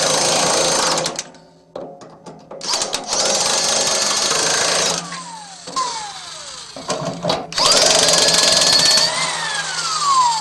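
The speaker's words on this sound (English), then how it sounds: "Torque the bolts evenly in a cross pattern to force the trunnion from the frame." A power tool drives the bolts that press the trunnion bearing housing out of an 18-60 lb commercial washer frame. It runs in loud, repeated mechanical bursts with whining pitch sweeps, and short pauses fall between the runs.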